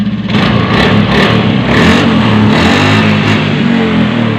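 Honda Beat FI scooter engine starts up and revs, a loud close buzzing drone that swells and holds steady throughout with no talk.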